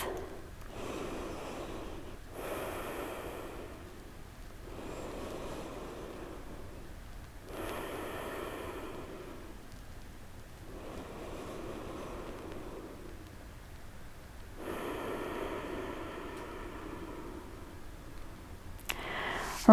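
Slow, deep breaths during a prenatal yoga session, each inhale and exhale drawn out in a steady rhythm, soft and close with quiet pauses between rounds.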